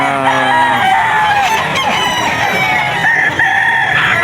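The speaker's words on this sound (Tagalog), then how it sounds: "guwapo na manok ni Boss Joey." A white streamer rooster crows loudly and close by, a long drawn-out call, with other chickens clucking and calling around it.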